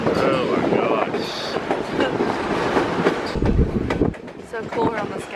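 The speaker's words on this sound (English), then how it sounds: "we're on the Skagway train" The Skagway train rattles along its rails in a steady, loud rumble with clickety-clack wheel noise and a few metallic squeals, heard from on board while people talk over it.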